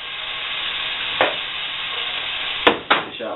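Onion slices frying in melted butter in a pan, a steady sizzle throughout with a few sharper knocks and scrapes of the slices being moved near the end.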